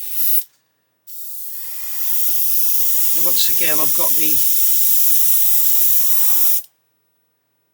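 A Gaahleri GHAC-98D airbrush sprays slightly thick paint in a long, steady, close hiss lasting several seconds after a short opening burst, with someone talking briefly over the middle and a low compressor hum beneath.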